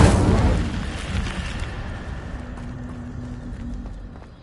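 The Incendio fire spell cast in Hogwarts Legacy opens with a loud fiery whoosh and boom that slowly dies into a crackling rumble, with no voices.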